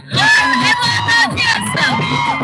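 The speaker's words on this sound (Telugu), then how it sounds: "గట్టిగా చప్పట్లతో ఆహ్వానించేద్దాం" A crowd at the Mr. Bachchan trailer launch event cheers loudly to welcome a guest on stage, with high whoops and shouting voices layered over a dense, close roar of excitement.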